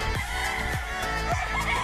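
Chickens and a rooster call close by in a rural yard, several sharp, descending squawks and clucks at irregular intervals over a steady, tonal background hum, with no speech during the calls.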